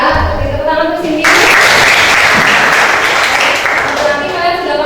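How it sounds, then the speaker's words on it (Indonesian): Students in a classroom clap for a classmate named Cindy, a loud burst of group clapping that starts after a moment of voices and holds steady to the end. "Tepuk tangan untuk Cindy"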